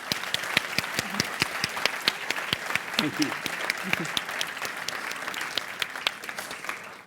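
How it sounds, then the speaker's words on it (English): Audience applause closing a festival talk with Toby Ord, a sustained clatter of many hands with sharper individual claps standing out, while a few voices speak briefly over it. "round of applause."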